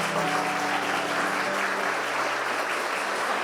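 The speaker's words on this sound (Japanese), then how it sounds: "拍手でお迎え。" Steady applause from a gathered crowd of Toyota meisters welcoming Chairman Akio Toyoda into a round-table meeting in Oyama, Shizuoka, a dense wash of clapping sustained at even loudness throughout with no voices.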